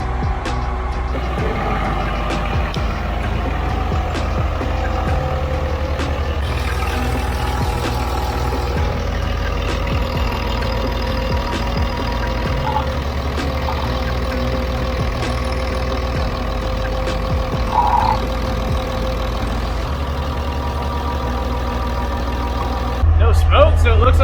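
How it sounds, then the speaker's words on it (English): A 5.9 Cummins diesel truck engine idles steadily on first start after new injectors, with a low, rough rumble that holds throughout, a brief louder rev near the end, and a voice speaking now and then. "the truck is idling good"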